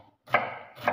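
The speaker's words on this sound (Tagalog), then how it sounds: "Tapos ito yung sibuyas. Ito ang ating hihiwain, mga guys." A knife chops an onion on a board, two crisp, close cuts about half a second apart, with no talking.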